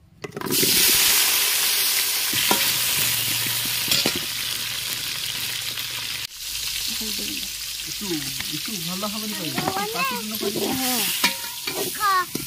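Potatoes fry in hot oil during village chicken cooking outdoors, giving a steady, close sizzling hiss that runs throughout, with a short break midway; voices talk over the second half.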